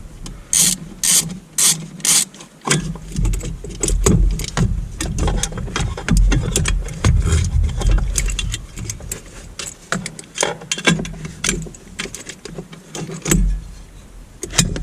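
A 10mm socket ratchet clicks in repeated bursts, rasping and rattling close by as the battery bracket bolts on a Porsche Cayenne are worked loose, with metallic handling noises between the strokes.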